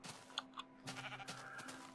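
Minecraft sheep giving a couple of short, faint bleats in quick succession, with soft background game sound.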